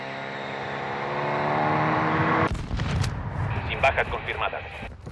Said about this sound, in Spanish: Dron bomba listo para detonar.